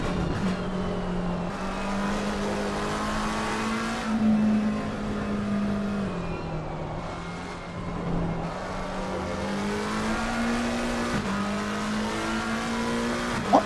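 A McLaren race car in the Assetto Corsa Competizione racing game howls around the track, engine pitch rising and dropping through gear changes with brief dips, loud and continuous with no talk.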